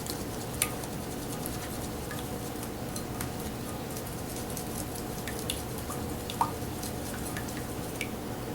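Gelatin mixture being stirred in a bowl to break up lumps, a quiet continuous scraping and swirling with a few soft clicks against the container, no voices.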